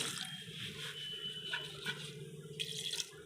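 Water pours and splashes into a cooking pot of powdered ingredients for mutton shami kebab in short bursts, with a few drips and trickles, fairly close and moderately quiet.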